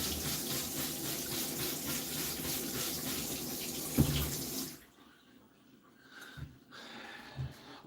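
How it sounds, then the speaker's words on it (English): A cutting board washed under a running tap in a sink, steady close splashing water that stops about halfway through and leaves a few quiet knocks and clatters. "The board away in the sink for washing."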